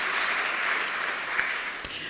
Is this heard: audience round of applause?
yes